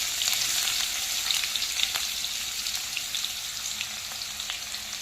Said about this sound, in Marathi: कांदा जास्त छान असा लालसर परतून घ्यायचा आहे